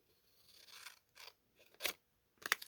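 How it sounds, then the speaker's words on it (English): Scissors snip through folded card along the crease, four short separate cuts with quiet gaps, close and fairly soft, the last two crisper and sharper. "cut along the fold"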